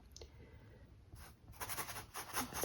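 A synthetic-bristle brush drags across canvas while applying acrylic paint, producing soft scratchy strokes that start sparse and build into a denser, louder run of rubbing swishes.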